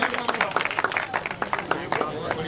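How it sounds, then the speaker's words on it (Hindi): An audience at a Congress committee welcoming event claps in a loose, uneven burst of applause, individual claps distinct, with a voice speaking over it. "जोरदार तालियों से स्वागत करें भैया"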